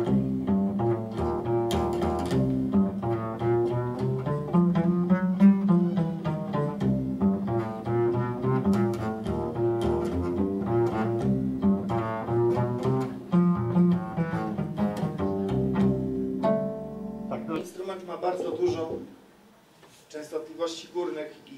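The wspaki, a string instrument, is plucked with the finger in a long, busy run of ringing, resonant notes lasting most of the passage. The playing then breaks off into a short, quieter, noisier tail.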